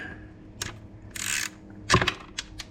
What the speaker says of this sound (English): The alternator power is this bolt right here. It's a standard 10 millimeter. We just get a wrench on it.